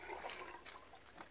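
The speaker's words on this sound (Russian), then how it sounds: "Наливаем водичку." Water is poured into an aquarium holding mixed metal particles such as aluminium, copper and iron, a quiet, steady splashing trickle heard up close.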